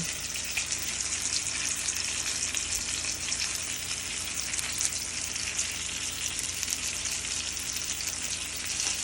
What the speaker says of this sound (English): make sure you watch your buns, because you don't want them to burn